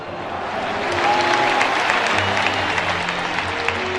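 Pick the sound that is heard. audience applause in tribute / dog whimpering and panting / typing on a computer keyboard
audience applause in tribute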